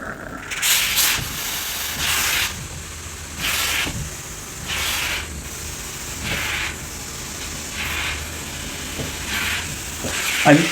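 Repeated bursts of hissing steam from a steam iron pressing trousers through a cloth, each lasting about a second, separated by brief pauses, close by with no talking.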